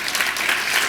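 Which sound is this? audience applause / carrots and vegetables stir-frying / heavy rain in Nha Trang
audience applause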